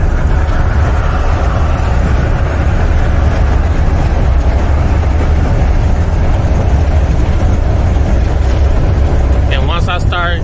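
Heavy truck engine droning steadily under air-conditioning load while climbing through the Virginia mountains, a loud continuous low rumble inside the cab with a brief burst of sound near the end.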